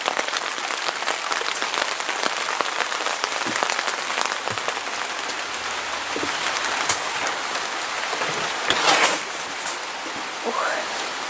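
Steady rain falls on a garden flower bed, a dense even patter filling the whole stretch with a few louder drops and splashes close by, and no voices.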